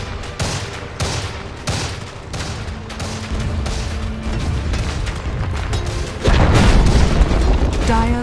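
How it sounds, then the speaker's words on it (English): A tower being destroyed in a Dota 2 match between VG and TongFu at the Asia Championships 2015, with booming impacts and rattling attacks building into a louder crash near the end amid game noise and announcer voices. "Dire's bottom tower has fallen."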